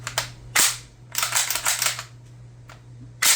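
An MP5 submachine gun cleared and checked empty: sharp metallic clacks of the action and bolt, a cluster of rattling handling clicks, then a final loud snap, close and alone with no talk.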